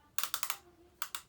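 Star Wars Black Series R2-D2 figure with its head being turned, giving a quick run of four sharp plastic clicks, a short pause, then two more, close and fairly quiet.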